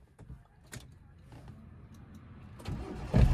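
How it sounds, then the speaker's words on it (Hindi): A manual car's engine starts with the clutch held down, a short cranking burst near the end rising to a loud catch over a quiet cabin hum, with faint clicks before it. "क्लच दबा के इंजन ऑन करो"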